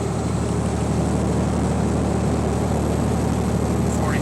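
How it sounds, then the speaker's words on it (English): A truck engine labours up a Pennsylvania mountain climb on US 30, a constant loud in-cab drone with a low hum. No clear gear change is audible. "and downshift again."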